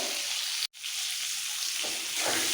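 Pointed gourd (potol) with a little turmeric frying in oil in a pan over a medium-low flame: a loud, even sizzle close by, briefly cut to silence once, with no speech.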